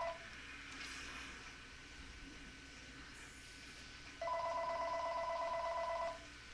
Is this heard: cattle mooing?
no